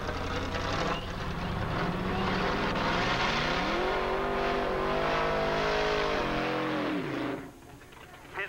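Pickup truck drag racing in bracket 3 at Edinburg International Dragway in Texas, 1987: a loud sustained engine roar rising in pitch as it accelerates, then dropping off abruptly near the end.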